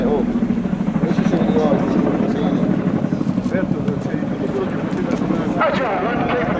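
A display helicopter flies at the Royal International Air Tattoo 2017 air show, its throbbing rotor chop and turbine roar steady and loud throughout while a commentator talks over a public address.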